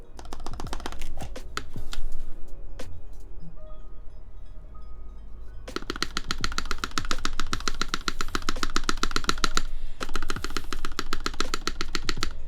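Rapid clacking keystrokes on a Vertex Arc60 mechanical keyboard, sparse taps at first and then a dense, fast typing burst, close and clear.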